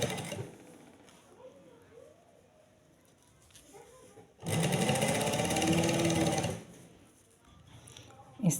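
A sewing machine runs steadily for about two seconds, stitching right along a sleeve edge, loud and close, with quieter handling noises and soft rustling before and after.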